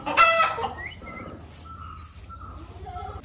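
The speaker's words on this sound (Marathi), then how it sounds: "इथे ना थोडंसं शांत असं उभं राहिलं ना तर सगळे पक्ष्यांचे आवाज येतात" Chickens cluck and call around an agrotourism farm resort near the Madkhol dam in Sawantwadi, with a sharp loud cry at the start followed by softer scattered clucks over a low background.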